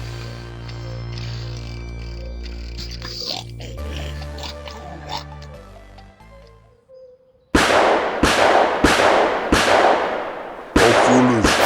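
Gunshots in an audio drama ring out as a rapid series of five or so loud, sharp bangs once the preceding music and low drone cut away, with a brief gap before the last shot.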